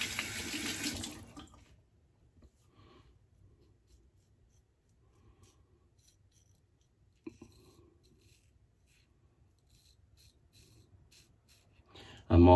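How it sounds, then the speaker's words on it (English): Warm water running from a sink tap to rinse off after a shave with a vintage Gillette Slim Adjustable double-edge razor, with a loud splashing burst at the start, quieter trickling and handling in between, and another loud gush at the end. "I'm also rinsing off with rather warm water."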